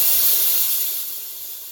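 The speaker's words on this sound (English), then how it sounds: "spiral stacker, it just gives a cool little added effect sizzle to it." Spiral stacker effect cymbal on a drum kit, a short bright sizzling wash that rings loud at first and then slowly fades, with no other instruments or voices.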